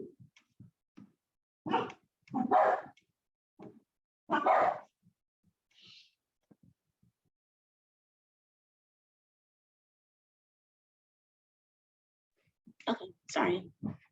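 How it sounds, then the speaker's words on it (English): Several dogs barking in short bursts, some near and loud, with a long quiet gap between volleys during an online college-readiness meeting; no talk accompanies them. "I do have dogs."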